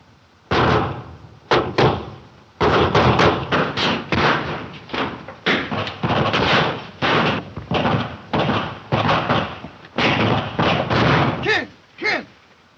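Dense, rapid gunfire from a gang shooting up a bank in an early 1930s film: many loud sharp bangs in irregular bursts over about twelve seconds, close and overlapping, with no clear talk.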